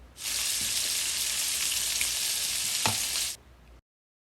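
Pieces of food fry in a pan for a hearty, healthy meal, giving a loud, steady, close sizzle that runs for about three seconds, with one brief clack partway through, and then cuts off.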